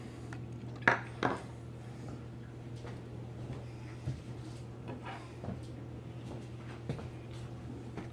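Maple syrup and whole cranberry sauce scraped out into a bowl, faint clinks and taps of utensil against container scattered over a low steady hum, with a few sharper knocks.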